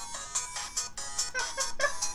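A phone rings with a ringtone from the visual novel game DMMd, a clear electronic tune of pulsing chime notes in an even rhythm, close and steady for about two seconds.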